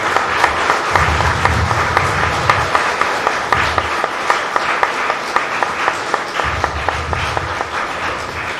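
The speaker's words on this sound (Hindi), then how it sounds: "एक बार सभी एक दूसरे के उत्साह वर्धन में तालियों की गड़गड़ाहट करेंगे।" Sustained applause from a large audience at a spiritual society's centenary anniversary celebration, dense clapping throughout with no voices over it.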